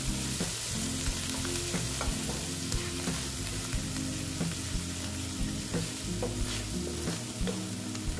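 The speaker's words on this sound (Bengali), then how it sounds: "টমেটোটাও ভাজা হচ্ছে।" Tomato sizzling as it fries with salt in a pan for a pabda fish curry, continuous crackle punctuated by regular scraping stirs, close-up and alone.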